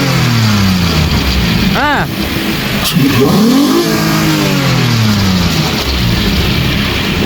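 A Gazel 3.3-litre V6 petrol engine runs loud and close in a workshop, idling and then revving up and down in several sweeps, with a voice speaking briefly over it.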